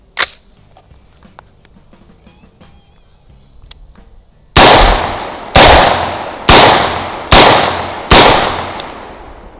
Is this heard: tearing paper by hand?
no